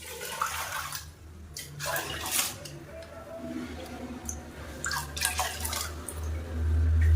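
Soaked rice and water are poured into a pressure cooker while making pongal in a home kitchen. Splashing and trickling pours come in uneven bursts with light clinks, ending in a louder, fuller low rush of water.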